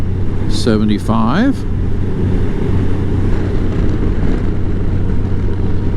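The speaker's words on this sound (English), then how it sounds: "Although it's a little windy, the temperature is wonderful." Wind gusts across a microphone outdoors early in the morning, a steady low rumble that fills the whole stretch, with a short spoken phrase near the start.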